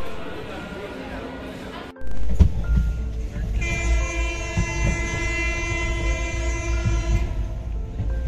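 A passenger train on the Delhi to Dehradun route rumbles along with a loud, steady low roar and rattling carriages, a horn sounding sustained tones for a few seconds midway, with a voice talking briefly over the noise.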